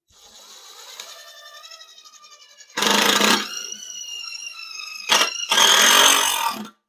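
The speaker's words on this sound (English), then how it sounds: "a cheap self-tapper screw rips right through that steel" A high squealing whine of a self-tapping screw being driven into steel on a snow shovel, rising in pitch, then harsher grinding bursts with a brief pause between.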